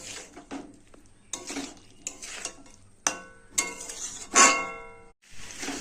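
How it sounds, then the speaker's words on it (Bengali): Spice paste of chilli, turmeric and cumin powders with a splash of water stir-fried in a pan, with repeated scrapes and clinks of a utensil against metal under a soft sizzle, in irregular bursts. "একটু জল দিয়ে দেবো, দিয়ে মশলাটাকে কষিয়ে নেব।"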